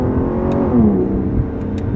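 A 2011 Aston Martin Rapide's V12 engine revs up and settles into a steady, loud rumbling drone close by, with no talking over it.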